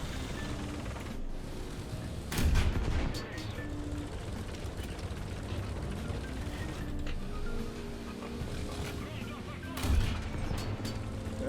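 Italian low-tier premium tank gun fires in War Thunder, two heavy booming shots about seven seconds apart over constant engine rumble and ongoing talk.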